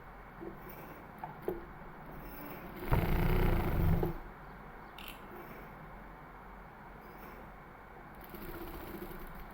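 A sewing machine stitches a neckline in one short whirring burst of about a second, standing out against an otherwise quiet room.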